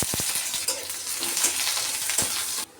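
Onions fry in oil with cumin and a torn dried chili, making a dense, continuous sizzle with a few sharp spatters and light stirring taps, close by. The sizzle cuts off abruptly near the end.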